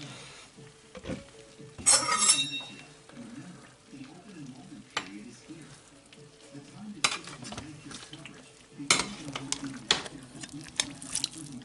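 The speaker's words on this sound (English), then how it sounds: "Just gonna mix this up a little bit so those veggies can get down into that juice" Mallard duck stew with bacon, mushrooms, potatoes and vegetables being stirred in a pot: repeated soft scraping and sloshing strokes with occasional metallic clinks of the spoon against the pot, close and fairly quiet.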